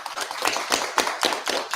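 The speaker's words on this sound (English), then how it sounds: "how about a round of applause for Billy Merritt?" An audience applauds Billy Merritt with a steady burst of dense, lively clapping that carries through the whole moment at a fairly loud, close level, with no talking over it.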